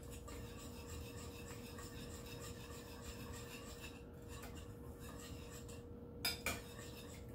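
Steady rasping, scraping strokes of a utensil stirring a vegetable and parsley mixture in a bowl, continuous and close, with a couple of sharper clinks near the end and no talking.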